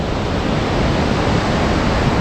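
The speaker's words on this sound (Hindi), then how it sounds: "ग्लेशियर पिघल पिघल के जो है सब एक नदी में मिल रहे हैं।" Glacier meltwater streams in the Himachal Pradesh mountains near Chandratal pour into a river, a steady, dense, full-range rush of flowing water, close and continuous with no voices.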